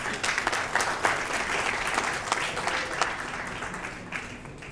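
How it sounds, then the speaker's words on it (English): Warm audience applause at an awards ceremony as a presenter is invited onstage, a full, even patter of many clapping hands with a few crisp nearby claps, tapering slightly near the end. "Let's give her a warm round of applause."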